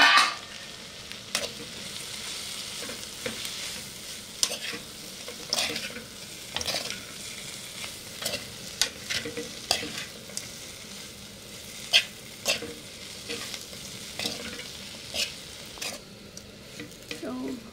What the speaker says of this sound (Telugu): మొత్తం ఇలా కలిపేసుకొని